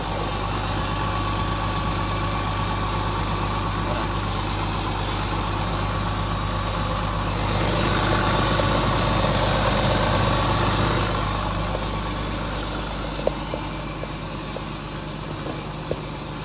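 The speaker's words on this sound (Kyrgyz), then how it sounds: "Мана көрдіңер туған мотор деген өкірет бұқада әлі." A used Chinese-made machine's diesel engine idles steadily for the whole stretch, a low rumbling hum with a deeper, louder swell in the middle and a few faint knocks near the end, with no talking.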